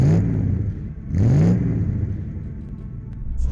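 An Interstyl Hustler 6 wooden car pulls away on the road, its small engine revving up in two rising bursts with gear changes in between, heard close from inside over a steady rumble and without talking.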